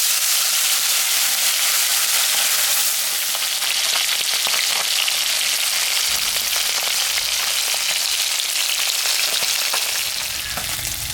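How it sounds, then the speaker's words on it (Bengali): Salted, turmeric-rubbed lata fish fries in a pan, giving a loud, steady, close sizzle with crackling spits that continues without pause and with no talk. "এখন আমি মাছটা ভাজবো।"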